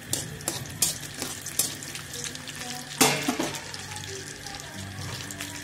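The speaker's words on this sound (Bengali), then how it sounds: "আমরা এই গোটা মশলাগুলো এর মধ্যে আমরা দিয়ে দিচ্ছি, দিয়ে হালকা আমরা নেড়ে ছেড়ে দেবো এটা।" Whole spices hitting hot oil in a wok and being stirred, steady sizzling with scraping stir strokes and a sharper crackle burst midway.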